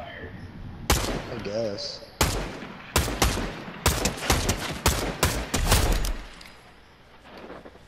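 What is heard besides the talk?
gunfire in the video game Fortnite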